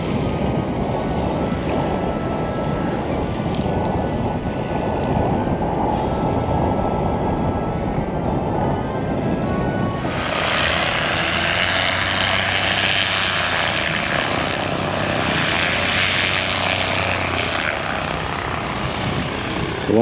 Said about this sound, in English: you can actually hear the plane taking off with the old engine